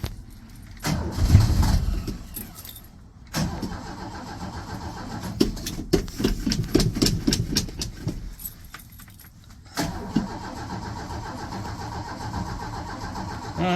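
A Ford crossflow engine in an old car cranks and tries to start, delivering bursts of starter churn and coughing turnover separated by quiet gaps, with some keys jangling and no voices.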